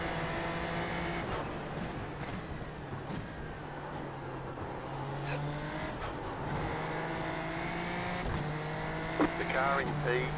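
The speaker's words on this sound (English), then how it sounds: "you get used to the turbo sound, but it's just funny because the engine's so muted in that car" A Radical SR10 race car in the iRacing sim racing game runs with a muted engine drone and a turbo whine, steady and continuous throughout, with no break in the sound.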